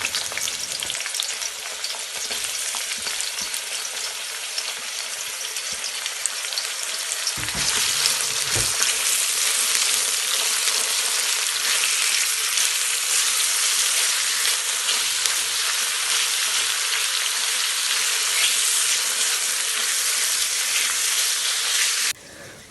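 Onions frying in hot oil in a kazan for kuyrdak, a dense, loud, continuous sizzle that swells slightly midway and cuts off abruptly at the end.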